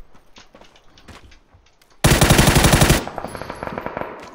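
Gunfire in PUBG (PlayerUnknown's Battlegrounds): a loud, near burst of rapid automatic shots lasting about a second, then softer scattered shots and game noise after it, with no one speaking.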